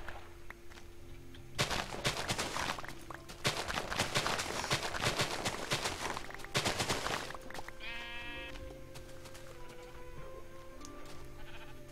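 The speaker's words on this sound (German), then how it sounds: "da ist noch ein Schaf" Sheep bleat repeatedly in Minecraft over a steady game backdrop, short nasal bleats clustered close together, loud and near, with no talking.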